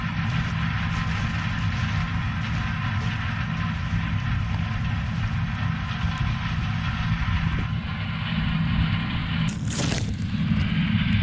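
A tractor engine runs continuously during a corn harvest with a steady low rumble, close by and unchanging, with no voices.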